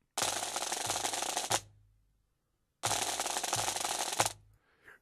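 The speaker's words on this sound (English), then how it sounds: "you're hearing is snare drums, Premier snare drums." Two long, fast rolls on Premier snare drums, each a few seconds of dense crisp rattling that stops sharply, separated by a short silence.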